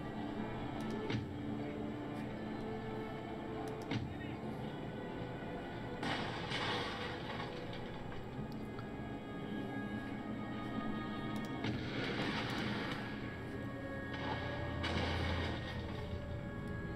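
Artillery fire in the strategy game Empire: Total War, Prussian campaign: a dense, steady din of distant cannon booms and crackling gunfire, with a few louder bursts rising and falling across the battle.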